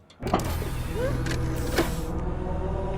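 Tesla Cybertruck front trunk power-opening with a steady electric motor whir after a soft click, running continuously at close range with a faint rising tone; no talking.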